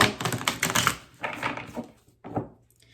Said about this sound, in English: So I'm going to shuffle a bit.